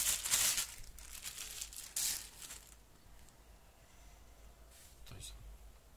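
Cellophane bag holding a Fujimi Car-M1 mini camera dolly crinkles close up in a few short, crackling bursts, then quiets to faint occasional rustles.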